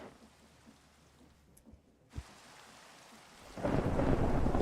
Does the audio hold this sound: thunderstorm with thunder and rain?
yes